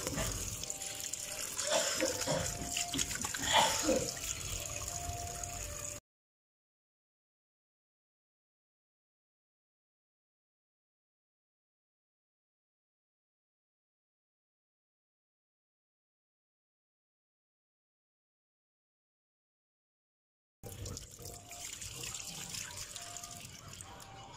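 Tap water running for washing in a kitchen, a steady close stream with some clattering for several seconds, then a long silent gap before the flow resumes briefly.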